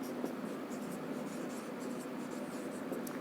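Chalk or marker scratches across a board in a classroom chemistry lesson, short scraping strokes repeating over a constant background hiss, with no talk during the writing.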